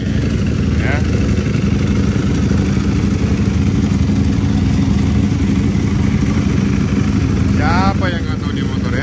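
A heavily modified motorcycle engine idles loudly and steadily at a trackday at the Mandalika circuit, a continuous low rumble throughout with people talking over it.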